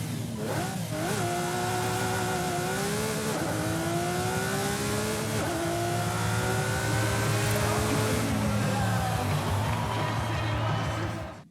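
A stock Lamborghini SVJ in Forza Horizon 5 revs hard, its engine pitch climbing through several gear changes in a loud, sustained, close-up roar that cuts off at the end.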